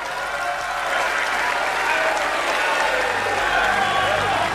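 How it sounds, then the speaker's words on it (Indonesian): An audience applauds after Prabowo Subianto's speech at a PSI event backing him as a 2024 presidential candidate. Dense, sustained clapping from a large crowd fills the room without a break. "Beri tepuk tangan yang mulia untuk Bapak Prabowo Subianto."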